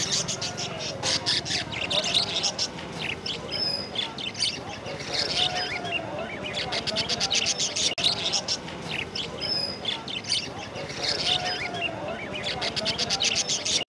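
Birds for sale at Lalukhet bird market squawk, chirp and call continuously in a busy crowded setting, with people talking throughout under the steady chatter of many birds.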